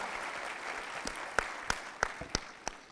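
Scattered hand claps ring out from a small audience at a gathering on disability leadership, about seven sharp, separate claps spaced unevenly over a faint, quiet room background.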